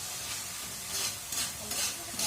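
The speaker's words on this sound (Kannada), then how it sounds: "ಟೊಮೆಟೊ ಸಾಸ್ ಹಾಕಿ ಇದನ್ನ ಹೀಗೆ ಮಿಕ್ಸ್ ಮಾಡಬೇಕು" Tomato sauce stirred in a pan over a low flame for pasta, a soft continuous sizzle broken by repeated scraping pulses of the spoon, fairly quiet and with no speech.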